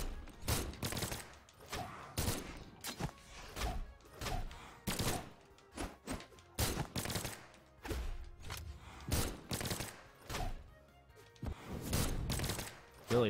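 Repeated gunshots from an opponent's guns in a one-on-one video game match, loud thudding bursts at an irregular rhythm throughout, coming one after another with short gaps in between.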